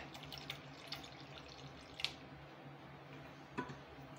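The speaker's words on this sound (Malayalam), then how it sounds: "അപ്പോൾ നമ്മൾ പാൽ ഒഴിച്ചു കൊടുക്കുകയാണ്" Boiled milk poured into grated carrots sautéed in ghee for carrot halwa, a faint, steady liquid trickle with a few soft splashes and drips, alone and quiet throughout.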